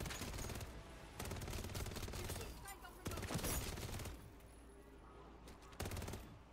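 An SMG fires from the hip in Call of Duty MW3 Zombies. The shots come in several rapid bursts separated by short pauses, fairly quiet overall with faint game sounds between them.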